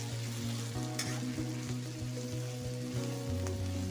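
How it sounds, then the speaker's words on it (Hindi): Ginger garlic paste frying in oil in a pan, a close, steady sizzle and crackle running continuously and fairly quiet, with no voices. "1 मिनट फ्राई करेंगे।"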